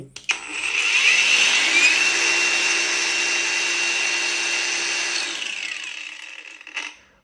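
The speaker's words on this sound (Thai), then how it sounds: "แล้วเครื่องเจียตัวนี้ก็มีระบบซอฟต์สตาร์ทด้วย" A cordless angle grinder with a 6 Ah battery and soft start spins up, its whine rising smoothly to a loud steady high-pitched hum that holds for several seconds before winding down, heard up close without talk.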